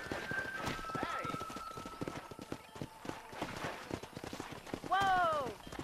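Horse hooves in the video game Red Dead Redemption 2, a quick, steady clip-clop of a riding horse close by, a short neigh near the end, with voices talking over it.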